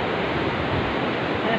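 Cold mountain stream water at Kargah Nala near Babusar Top rushes steadily in a dense, continuous broadband wash, loud and close, with no pauses.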